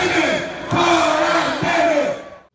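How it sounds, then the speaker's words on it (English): A Brazilian street crowd chants "Temer out" against the president, massed voices rising in loud, rhythmic repeated phrases before cutting off abruptly at the end. "he had to deal with crowds demanding he be removed from office, a chant that became common in Brazil"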